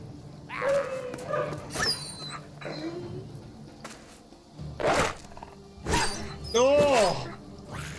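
Dogs in the Battle Brothers game yelp, whimper and bark in short bursts amid combat noise, with a player's voice talking over parts of it.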